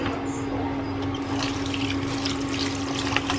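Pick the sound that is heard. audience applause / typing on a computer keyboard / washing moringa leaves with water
washing moringa leaves with water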